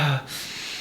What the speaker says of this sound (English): Breathe in. Breathe in.